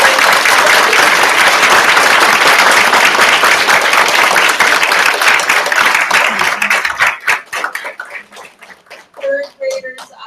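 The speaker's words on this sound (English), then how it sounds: "Please join me in giving a huge round of applause." Audience applause at a third-grade oratorical contest, a dense, loud burst of clapping that fills the room for about seven seconds, then thins into scattered claps and a few voices as it fades.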